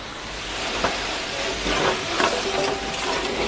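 Onions and chopped tomatoes frying in a pan for restaurant-style palak paneer, giving a continuous close, even sizzle with a few faint stirring scrapes, no one speaking.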